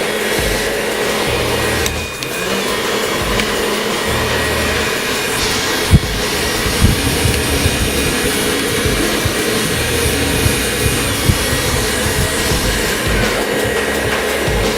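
A hair dryer blows air steadily onto hair while styling a pompadour haircut, a loud continuous whoosh running throughout with no speech.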